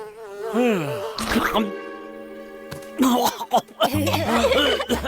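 In a cartoon, Sher Khan turned into a fly buzzes in wavering, whining bursts that swoop up and down, mixed with snickering laughter and animated voices.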